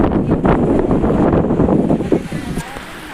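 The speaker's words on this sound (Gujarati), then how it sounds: "આ દરિયાના સરસ મજાના મોજા ઉછળીને આવી રહ્યા છે દરિયામાંથી" Sea waves surge and wash onto the shore at Kavi Kamboi near the Stambheshwar Mahadev temple, heard under heavy wind buffeting the microphone at close range, with a voice speaking.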